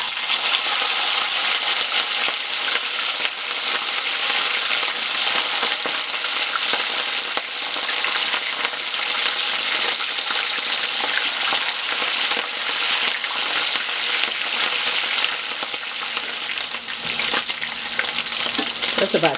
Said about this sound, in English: I'm just going to fry the shrimp.